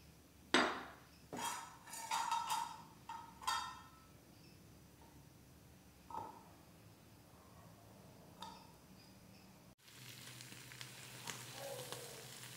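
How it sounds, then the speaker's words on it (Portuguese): Homemade mozzarella being cut with clinking utensil taps and clatter against a dish, then placed in a frying pan, where a steady soft sizzle takes over near the end; close and fairly quiet. "Aí eu vou estar cortando e vou punhar na frigideira pra nós ver se derrete mesmo"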